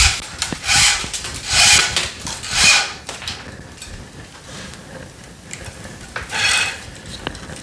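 Tennis racket string being woven through the cross strings of a 2023 Wilson ProStaff 97 during stringing: a few bursts of soft rubbing, swishing friction, close and fairly loud, with quieter pauses between passes and no talking.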